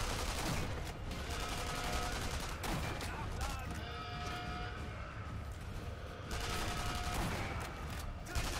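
Sustained gunfire in the World War II shooter Sniper Elite V2 during a co-op mission at the Mittelwerk facility, rapid overlapping shots forming a continuous fusillade, distant and faint in the mix.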